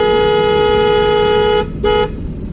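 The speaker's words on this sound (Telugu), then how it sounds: "ఓకే, హార్న్ కొట్టు." A car horn blares loud and close in traffic, one long steady honk followed by a quick short toot, sounded by a learner driver among motorcycles.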